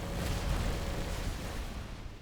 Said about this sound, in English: That's pulse cannons right there.